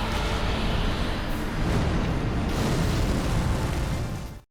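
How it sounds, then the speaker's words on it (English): A lightning explosion in the video game Dark Souls 3 gives a sustained, loud, noisy roar that rumbles steadily for about four seconds before cutting off abruptly, with no voices over it. "I was nowhere near the lightning explosion, and I just died of like nothing"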